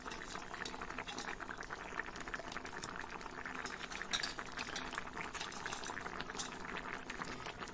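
Curry with lentil fritters and jackfruit simmering in a pot, a steady soft bubbling with small pops, close and quiet.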